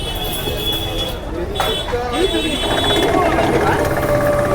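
A battery-powered sugarcane juice machine crushes a stalk of sugarcane, giving a loud, continuous mechanical grinding and rattling with squealing, whining tones that shift as the cane feeds through.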